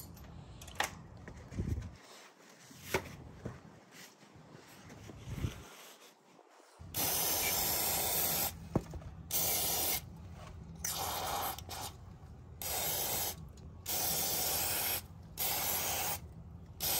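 Anti-seize being sprayed onto a clutch shaft on a turbo-diesel minibike: a few faint early hisses, then a series of loud, close spray bursts, each lasting about a second with short pauses, no voices.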